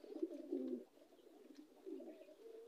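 A Cheena male racing pigeon gives soft, low cooing phrases close by, two rolling coos separated by a brief pause, quiet and alone.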